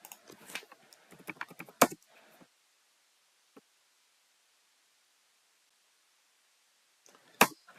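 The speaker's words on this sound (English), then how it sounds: "let us start to type our message" Short bursts of computer keyboard typing sound at close range, with a quick run of key clicks at the start, a long quiet gap, a single tap, then a louder final cluster of keystrokes.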